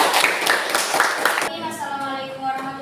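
An audience claps together at a teacher-training presentation, a brisk burst of applause lasting about a second and a half before fading into other room sounds.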